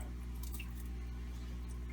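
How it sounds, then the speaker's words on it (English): Water dripping and trickling from a leaking home aquarium, soft wet drips over a steady low hum, close and continuous, with no voices. "let the water settle and let it drip for a little while"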